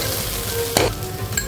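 Food frying in a pan for Navaratna khichuri makes a close, continuous sizzle, broken by one brief clatter near the middle and a small tap at the end.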